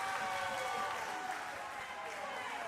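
A crowd at a live SoCal Pro Wrestling show in Vista, California, roars and applauds as a wrestler dives over the top rope, a dense, sustained wash of cheering heard from within the arena.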